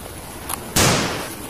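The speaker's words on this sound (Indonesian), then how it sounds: "ini tembakan M16" A single sharp pop from a toy M16 gun bursts out loud after a faint tick, then its noisy crackle fades away.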